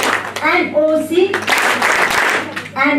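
Talk gives way to a roughly one-second round of audience clapping at a healthcare management seminar, then the voice returns.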